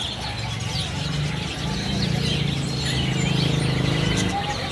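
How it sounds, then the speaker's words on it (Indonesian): A Javan bush lark sings in a bird kiosk among other caged birds, its chirping song faint and layered over a dense bed of background calls and noise. "Ini buat yang di atas yang lagi bunyi, teman-teman. Ini untuk beranjangan Solo."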